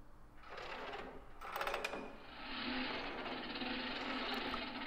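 Chain-winding handle being turned in the Resident Evil Zero training facility, a faint mechanical whirring and grinding that comes in uneven bursts with a brief rattling clatter partway through.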